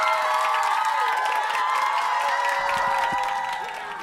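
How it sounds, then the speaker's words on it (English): An audience in a welding shop claps and cheers for a first-time welder, a loud mix of applause, whoops and shouts over a steady tonal hum that fades slightly at the end. "please give her a round of applause"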